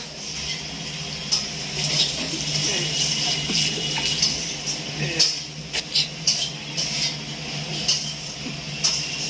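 Tap water runs steadily into a sink while hands are washed with handwash, a continuous close splash with occasional knocks and clatter, and a voice speaks briefly over it.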